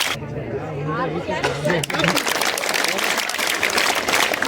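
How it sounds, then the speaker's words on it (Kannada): Audience applause breaks out and fills the hall for the life-saving rescuers at a Shivamogga district police traffic-rules awareness event. Someone speaks first, then dense, sustained clapping takes over. "ಇವರಿಗೆ ಮತ್ತೊಮ್ಮೆ ಚಪ್ಪಾಳೆಯನ್ನ ನೀಡಬೇಕಾಗಿ ಕೇಳ್ಕೊಳ್ತಾ ಇದ್ದೀನಿ"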